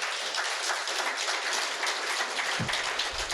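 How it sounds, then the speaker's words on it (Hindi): An audience at a spoken discourse claps together, a soft, steady patter of many hands that carries on evenly for a few seconds at low volume. "बीच बीच में कोई बात अच्छी लगी तो ताली बजा सकते"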